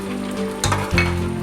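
A spoon stirs ground spices and chopped coriander leaves into a boiling Kerala beef curry in a pot, over a steady bubbling simmer, with two sharp scraping clanks against the pot.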